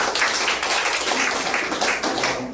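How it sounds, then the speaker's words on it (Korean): Audience at a Korean startup networking forum applauding for a speaker, a dense, even wash of clapping sustained throughout at fairly close range. "자, 우리 김호민 대표님 위해서 박수 한번 부탁드리겠습니다"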